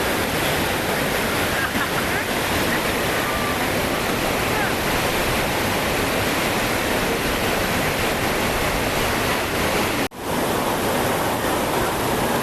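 A river flows at a campground, a steady, dense rush of water that stays loud and unbroken throughout.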